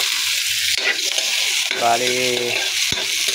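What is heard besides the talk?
onions and ginger sautéing in a pan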